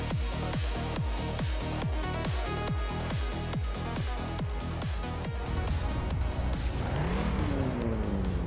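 Race cars, including a 1994 Alfa Romeo 155 Q4 and a Mitsubishi GTO, leave the grid at Dubai International in a racing video game: loud, rapid, repeated engine revs that merge into a continuous roar with tire squeal near the end.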